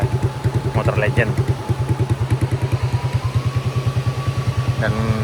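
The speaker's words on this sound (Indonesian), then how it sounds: "Ini kita pakai motor Legend." A Legend motorcycle engine idling close by, a steady loud chugging pulse throughout, with someone speaking over it in the opening seconds and again briefly near the end.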